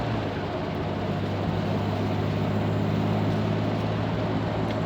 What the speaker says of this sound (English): Let's go into fourth gear.